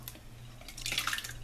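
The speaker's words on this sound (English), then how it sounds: "I'm going to open them up, pour it in." Canned tomatoes are poured from a can into a food processor, a faint wet glugging and splattering that swells near the end over a low steady hum.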